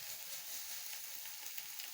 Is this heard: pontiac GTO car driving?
no